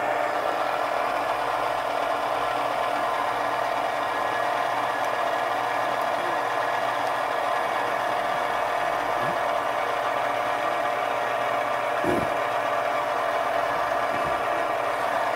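A milling machine spindle runs steadily at about 500 RPM with a constant mechanical hum, loud and unbroken throughout, with a few faint knocks in the background.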